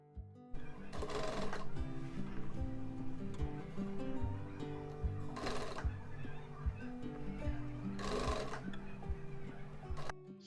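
Sewing machine stitching the fabric of a nursing pillow, a fast mechanical whir in three long bursts separated by pauses, close and fairly quiet.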